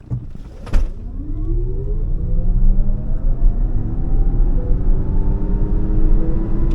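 A 313-horsepower all-wheel-drive Lexus RZ450e electric car launches hard from a standstill, its electric motor whine rising steadily over a loud, continuous road and cabin rumble.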